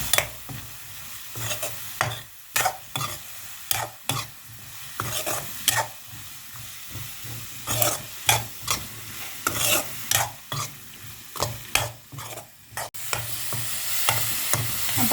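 Spice masala for eggplant chilli is stirred in a hot pan, with repeated sharp scrapes and knocks of the spoon in an irregular rhythm over a soft background sizzle, no talking.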